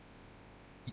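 A single crisp mouse click near the end of a second of quiet room hiss, close and brief.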